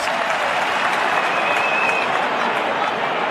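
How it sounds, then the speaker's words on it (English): Crowd applause at an Australian football preliminary final between Sydney and Collingwood, a dense, steady wash of clapping from a big stadium crowd, loud and continuous throughout. "To the applause of the crowd."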